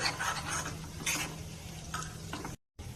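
Spice paste sizzles and is stirred in hot oil on a gas stove while sev mamra snack seasoning is made, with steady scraping strokes over a continuous fry that drops out briefly near the end.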